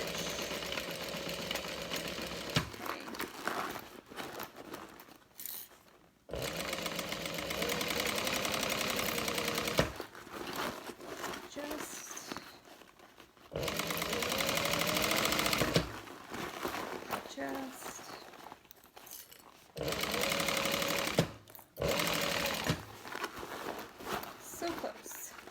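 A sewing machine back stitching a printed fabric bag, running in several steady bursts of a few seconds each, with short pauses and quiet talk in between.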